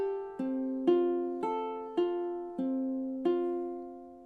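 Ukulele plucking the slowed closing notes of a song: six clean two-note plucks in a steady, slowing rhythm, each ringing and decaying, played alone and up close.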